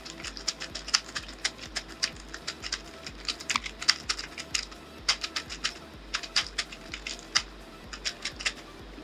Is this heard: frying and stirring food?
no